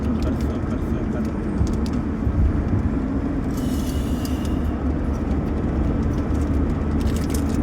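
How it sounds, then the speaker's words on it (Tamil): A vehicle cruises along a bypass road on the way to Tirupati, its steady engine and road rumble loud and continuous throughout, with brief wind or rattling noise in the middle. "வண்டி பைபாஸில் அருமையாக போகுதுங்க."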